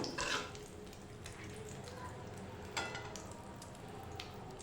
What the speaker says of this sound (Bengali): এবার ওই একই তেলে আমি কেটে রাখা পেঁয়াজ দিয়ে দেবো